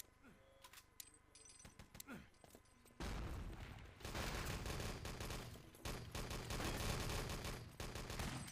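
Gunfire and rifle grenade blasts from a competitive Enemy Territory match, dense bursts of shots and explosions that swell loud after a quieter start, with faint talk in the background.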